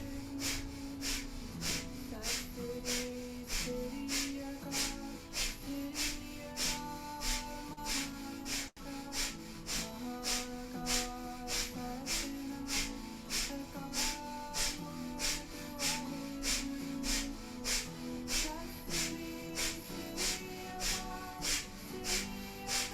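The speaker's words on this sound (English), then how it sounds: "This will become a breath of fire here." Rapid, even nasal breath of fire in a Kundalini yoga class for abdominal strengthening, sharp rhythmic exhales pulsing about twice a second for the full stretch, steady and fairly quiet over soft background music.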